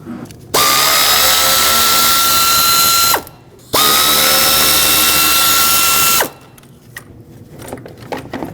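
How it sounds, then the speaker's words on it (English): Power ratchet or driver with a 10mm socket spinning out hood latch screws on a Ford Escape: two loud, steady whirring runs of about three seconds each, close up, separated by a short pause, then quiet handling noises. "with the help of a 10mm socket, unbolt the hood latch from the two 10mm headed screws holding it on."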